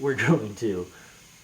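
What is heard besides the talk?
No everyday noise stands out behind the speech.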